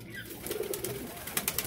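King pigeons coo softly at a moderate distance, low murmuring calls with a few sharper clicks near the end, no voices.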